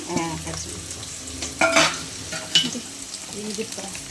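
Onions dropped into hot oil in a pan for a home-cooked ridge gourd and dried fish curry, hissing and sizzling up close, with bursts of louder crackle and stirring.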